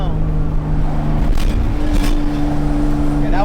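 A truck rushes past a moving 1979 Toyota Cressida, heard from inside the cabin as two brief whooshes over the saloon's steady engine hum, with voices in the car.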